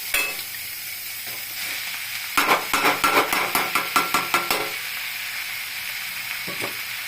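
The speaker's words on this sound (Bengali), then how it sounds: "ঢাকনাটা তুলে ফেলেছি, এবার হলো গিয়ে চাউমিনটা দিব, নুডলসটা দিব" Noodles tossed into a pan of sizzling vegetables for veg chowmein: steady frying hiss, then a burst of rapid rhythmic clatter as they are stirred and tossed, easing back to a quieter sizzle.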